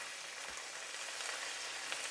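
Steady close sizzling and frying from a cheeseburger pasta pan as cooked noodles go in, a continuous hiss with faint stirring and no talking.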